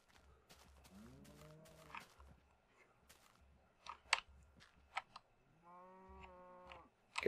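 Cows in the Minecraft video game moo in two drawn-out, falling calls separated by a few seconds of quieter game clicks and footsteps, with no talk over them.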